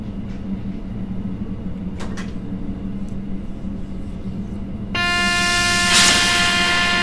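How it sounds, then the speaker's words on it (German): A freight train in Train Simulator 2020 rushes past near Kronach: a steady low rumble first, then a sudden loud, bright burst of rolling wagons and squealing wheels from about five seconds onward. "Güterzug, der hier durchrauscht."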